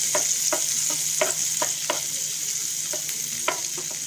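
Chopped garlic and green chilies sizzle steadily in a hot pan for a pasta dish while a spoon scrapes and knocks in a slow rhythm of light stirring strokes, close and alone.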